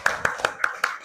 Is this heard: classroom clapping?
yes